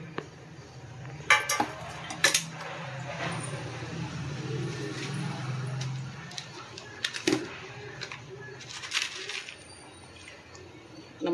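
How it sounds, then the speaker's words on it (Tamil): Prawn thokku with mango is stirred in a pan, then a lid is set on it: a few sharp metal clinks and scrapes over a low steady hiss, close and moderately quiet. "கலந்து விட்டு நம்ம இப்போ மூடி வச்சிடலாம்."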